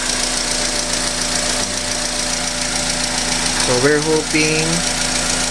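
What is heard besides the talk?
Honda Accord engine idling with ticking sound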